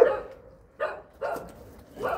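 A dog barks in four separate bursts spread across a couple of seconds, fairly close and moderately loud, with no talking in between.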